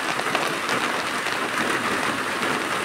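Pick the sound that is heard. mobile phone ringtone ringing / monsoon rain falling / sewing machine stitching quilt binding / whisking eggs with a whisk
monsoon rain falling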